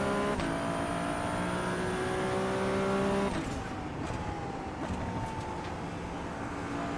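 Race car engine in the iRacing sim, a sustained high whine that cuts off as the throttle lifts, leaving quieter burbling crackle and rumble, no speech.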